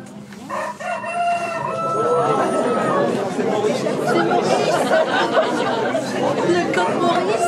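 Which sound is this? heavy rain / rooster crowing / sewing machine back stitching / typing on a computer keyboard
rooster crowing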